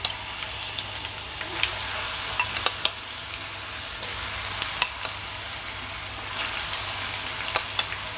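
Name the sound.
elephant foot yam pieces frying in hot oil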